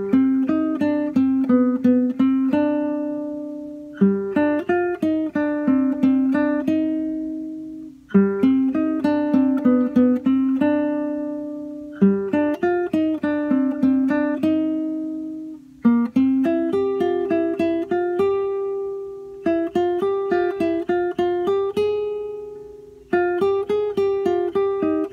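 Slow acoustic guitar playing the introduction of a song, clear plucked notes and strummed chords in repeating phrases, close and alone with no talking.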